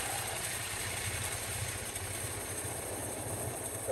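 A 1950 Jaguar Mark V's 3.5-liter engine idles steadily, tuned a little rich, with a low, even rumble pulsing throughout and no voices over it.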